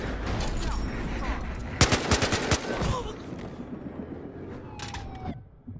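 Rapid AKM rifle fire in Battlefield Hardline, a dense run of loud, close shots peaking in a sharp burst, then mechanical clicks and fading game ambience, with no talking.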